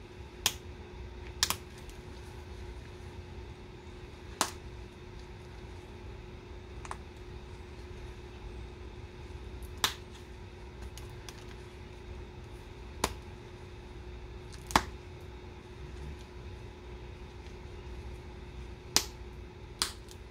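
Antler tool pressure-flaking the edge of a Zavala-type stone point in a zigzag pattern, with sharp isolated clicks and snaps spaced a second or more apart over a quiet, steady background hum.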